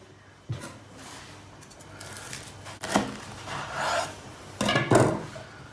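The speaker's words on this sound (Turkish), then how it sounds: "Sesi duyuyor musunuz? Çıtır çıtır." Crispy baked börek crackling and rustling as it is handled, a few dry crunchy bursts and rubs standing out over quiet kitchen background.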